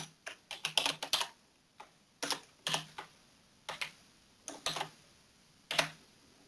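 Keys tapped on a computer keyboard while entering a terminal command, a close, crisp run of clustered clicks in short uneven bursts separated by brief pauses.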